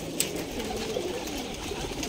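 Pigeons at a large pigeon-keeping place coo softly and fairly far off, a low steady murmur of birds over faint background noise, with one brief brighter chirp near the start.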